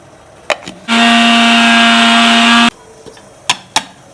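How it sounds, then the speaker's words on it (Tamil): A mixer grinder blitzing dry ginger and coriander seeds into fine powder, a loud steady whine for about two seconds, bracketed by a few sharp clicks and knocks of the jar before and after. "இப்போ இதில் நல்லா நைஸாக அரைச்சிட்டு வந்துடலாம்"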